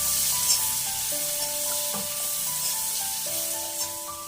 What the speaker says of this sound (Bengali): ঠ্যাংগুলিও একটু তেলে একটু ভেজে নিচ্ছি আমি